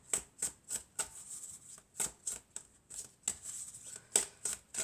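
Oracle cards shuffled by hand in quick, crisp riffling bursts, a dozen or so short papery flicks in an irregular rhythm, close and fairly quiet with no talking.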